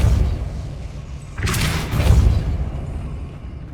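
Depulso force spell impact in Hogwarts Legacy, a single sudden heavy thump with a bright burst that fades over about a second against a low rumbling background, with a smaller follow-up thud.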